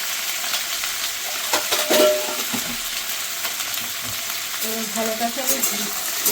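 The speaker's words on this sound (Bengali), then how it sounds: "ভালো করে ভেন্ডিটাকে ভেজে নেব। একটু লাল লাল করে ভাজবো।" Okra frying in a pan with salt and turmeric for an okra-potato masala, a loud continuous sizzle with bursts of crackle and stirring scrapes, close up.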